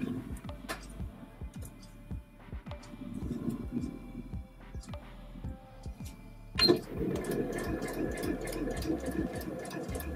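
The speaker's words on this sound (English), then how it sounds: "It's now sewing into place." A sewing machine stitching elastic cuffs onto pants, steady rhythmic ticking stitches running quietly through most of the stretch, with a brief louder clatter near the end.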